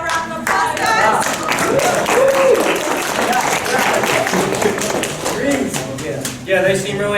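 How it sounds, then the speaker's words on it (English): A crowd claps and applauds steadily for several seconds, with some voices mixed in. "Let's give them a round of applause"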